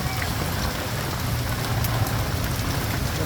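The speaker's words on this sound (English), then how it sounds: "It's been raining like this for the last 20 minutes, and it's actually let up a little bit" Heavy rain pours down hard and steady in Wichita, Kansas, a dense and loud continuous hiss with a low rumble underneath, with no voices over it.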